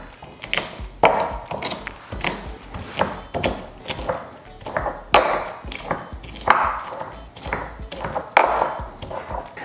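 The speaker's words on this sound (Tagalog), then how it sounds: "ipe-prepare ko muna yung bawang. Dinidikdik ko lang ito." Garlic pounded in a kitchen to crush it finely: repeated sharp, woody thuds land every second or so in a steady, uneven rhythm, close and clear, with no talk over them.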